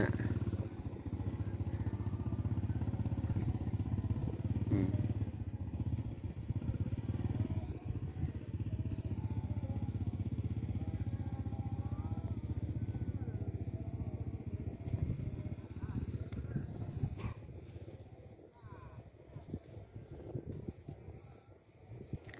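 A motorcycle engine drones steadily near a rain-soaked fishing spot at a reservoir, labouring as it tries to pull out, then dropping away near the end amid rustling and clatter.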